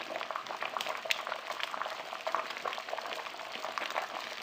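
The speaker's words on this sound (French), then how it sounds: "Vous voyez là comme ça mijote bien" Beef tongue with leeks, cabbage, garlic and water simmering in a pot, a steady close bubbling and gentle sizzling that continues evenly throughout with no talk.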